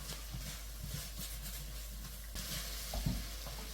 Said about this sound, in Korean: 야채를 다 넣고 볶아준 다음에요